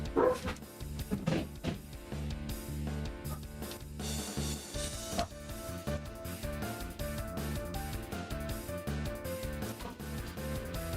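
A dog barks repeatedly at close range, a run of sharp yips and woofs that carries on over a layer of steady background music.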